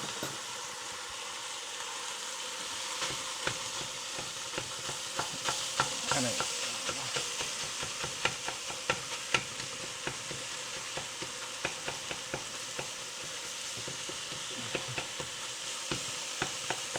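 Seasoned meat browning in a pan for chili, a steady loud sizzle with frequent crackles and pops, stirred now and then, with no voices over it.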